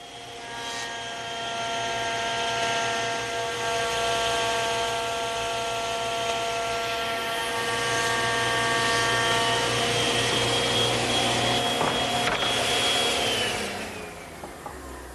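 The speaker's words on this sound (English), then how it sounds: "I'm going to show you a shortcut using the thickness planer." A thickness planer feeds glued-up wooden panels for a Shaker box, giving a steady loud machine roar with a high whine that holds for about thirteen seconds, then winds down as the board exits.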